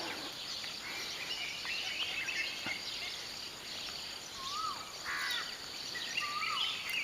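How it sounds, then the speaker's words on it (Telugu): Koel calling near an ashram in Nimboli, Ganeshpuri: a few short rising whistled calls, moderately distant, over steady insect drone and other birdsong, with no talk. "కోయిల"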